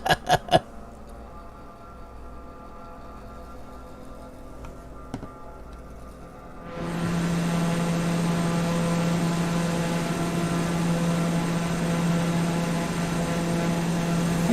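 Jet aircraft roaring past in a flyby in the Flight Simulator 2020 video game, a steady broadband engine drone with a low hum swelling in abruptly midway after faint clicks and staying loud to the end.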